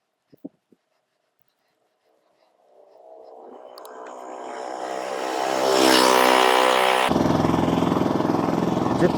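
A vehicle engine strains and revs harder while climbing uphill on a track in Jim Corbett National Park, starting after a few faint knocks and building steadily louder into a loud, sustained roar near the microphone.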